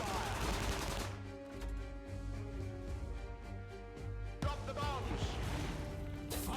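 Artillery card effect in the digital card game Storm Warfare TCG: a loud salvo of rapid gunfire at the start, then a musical interlude, then a second sharp burst of shots with ringing tones, a voice talking faintly underneath.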